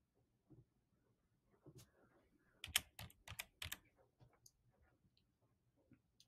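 Keys on a computer keyboard are typed while a web form is filled out, with quiet scattered keystrokes building into a brief, denser burst of clicks before thinning out again. The typing is soft and close.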